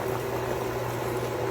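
Chicken broth with a chicken cube simmering in a pot, a soft continuous bubbling with a low steady hum from the stove, close and quiet, no talking.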